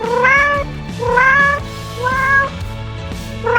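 An animated cat in a story meows four times in a steady, evenly spaced pattern, each call loud and drawn out over a low musical backing.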